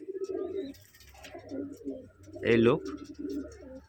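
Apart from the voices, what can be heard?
white pigeons cooing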